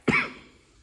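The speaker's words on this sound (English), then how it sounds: "But I'm over here coughing." A single close, sharp cough from a person, sudden and loud at the start, then fading quickly into quiet.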